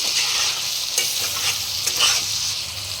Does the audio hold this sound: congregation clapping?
no